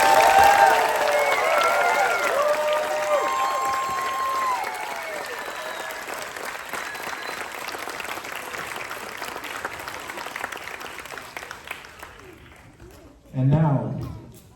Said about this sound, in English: would you please join me in expressing to these students our appreciation for their accomplishments with a well-deserved round of applause